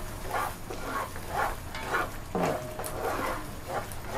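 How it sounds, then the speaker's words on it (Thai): Thai panang curry paste being stir-fried with thick coconut cream in a pan, a soft steady sizzle with periodic scraping stirs in a regular rhythm, close and moderately quiet with no talk. "คุณตั๊กก็จะเติมน้ำกะทิหัวกะทิลงไปอีกนะคะ ผัดให้หอมเลยนะคะ"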